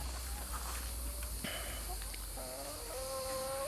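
Chickens on a Turkish village egg farm give faint, scattered clucks and short tonal calls against a steady outdoor background hiss, low in level and soft.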